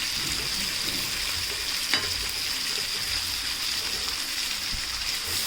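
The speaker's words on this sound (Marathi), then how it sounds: "मस्तपैकी अशा आपल्या इथं सर्व पापलेटच्या तुकड्या फ्राय करून झालेल्या आहेत" Pieces of fresh pomfret fry in a pan with a steady, dense sizzle and crackle of oil throughout, close and even, with one brief scrape or tap near the middle.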